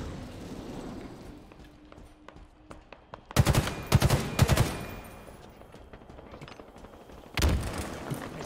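Bursts of automatic gunfire from Halo Infinite multiplayer beta combat, two sharp volleys of rapid shots close by around the middle and near the end, between stretches of quieter ambient game noise.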